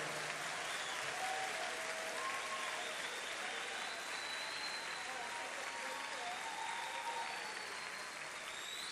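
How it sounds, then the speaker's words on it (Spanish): A church audience gives a steady wash of applause for visiting guests, fairly soft and distant, with faint voices mixed in. "Un aplauso para nuestros invitados,"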